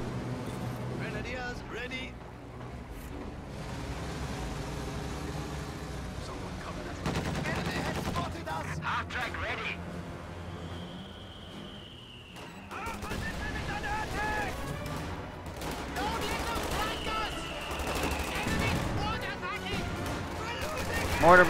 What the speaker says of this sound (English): Mortar bombarding over here on the fuel point, plus rifle grenades.